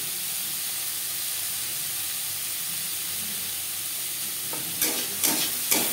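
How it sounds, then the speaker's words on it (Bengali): Onions and chilli frying in oil for a fish jhal with ridge gourd, a soft steady sizzle with three sharper scraping stirs near the end. "পেঁয়াজ ও লঙ্কার সাথে বেশ ভালো করে মিক্স করে দেবো।"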